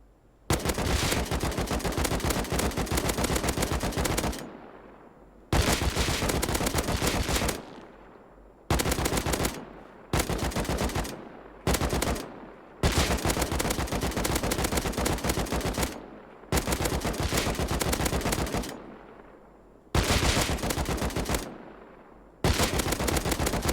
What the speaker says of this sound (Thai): อันนี้นั่งยิงครับ